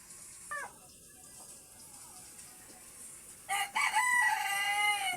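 Chickens and young chicks in a backyard coop, with a short call early on and a burst of clucking and peeping near the end over a steady background hiss.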